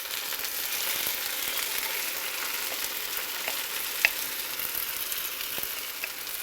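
Peeled tomato salsa with garlic sizzling in a pan, a steady close crackle and hiss with a few small sharp pops.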